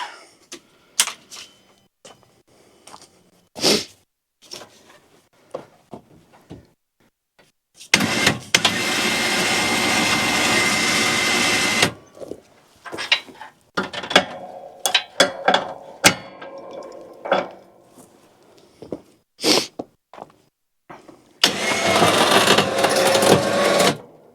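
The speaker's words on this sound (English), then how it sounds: "Alrighty, get the winch on it." An electric winch pulling a firewood tote runs in two sustained whirring bursts, one about four seconds and a later shorter one, amid scattered clicks, clunks and handling knocks close by.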